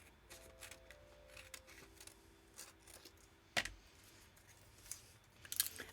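Scissors snip a few times, faint and close, with short sharp cuts standing out against a quiet room and soft tonal background sounds.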